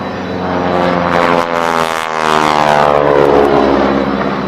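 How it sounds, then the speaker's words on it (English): A Boeing Stearman biplane passes during an air show. The loud radial propeller engine roars close by with a sustained droning buzz that swells and shifts in pitch as the aircraft flies past. "Look at the beautiful profile of this venerable Boeing Stearman biplane"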